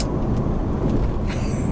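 An Infiniti G35 coupe engine pulls hard in third gear in manual mode while driving in Mexico, a steady loud low drone with road roar throughout, the tone lifting slightly near the end.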